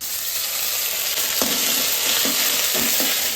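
Ginger and chili paste sizzles steadily in hot oil with cumin and bay leaf in a home kitchen, a loud continuous frying hiss with a few soft stirring scrapes and no voices.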